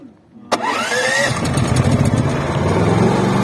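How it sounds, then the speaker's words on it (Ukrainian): Senci SC9000I 8 kW inverter generator cranks on its electric starter with a rising whine, then catches and settles into a steady, loud running drone close by. "також кнопку у режим ON переводимо і затискаємо кнопочку запуску двигуна"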